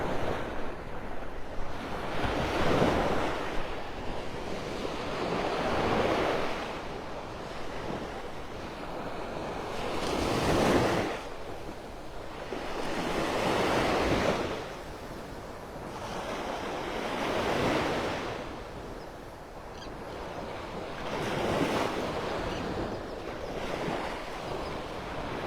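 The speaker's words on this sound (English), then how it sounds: "I'm at the beach." Ocean waves roll in at Delnor-Wiggins beach in North Naples, Florida, with slow surging swells every few seconds under a steady wind rumbling against the microphone, no voices present.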